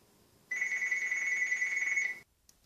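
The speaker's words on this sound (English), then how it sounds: "I'm sorry about the phone call ring." A single sustained phone ring, steady and fairly loud, lasting under two seconds and stopping abruptly, heard indoors during a Rainbow Loom crafting session, with no talking over it.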